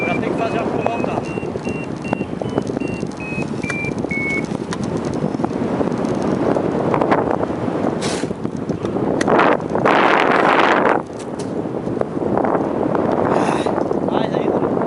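Wind buffets the microphone during a paraglider flight, a steady loud roar for the whole stretch with stronger gusts, and a voice talking over it.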